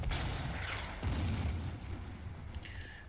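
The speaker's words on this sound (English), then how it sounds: "Hit him with some artillery." Artillery fire in the wartime strategy game Order of Battle: Blitzkrieg: two heavy booms about a second apart, each followed by a rumbling decay, then a lighter sound near the end.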